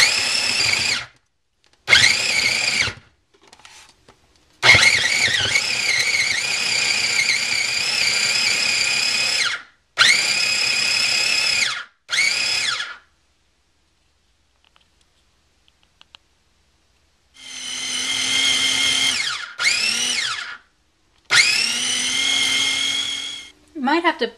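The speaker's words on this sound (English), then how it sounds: "I'm going to blend this now, or process it" A food processor whirs through a batch of raw vegan sushi rice in loud, sharp bursts, starting and stopping repeatedly with short silences between runs and a pitch that shifts as the mixture thickens.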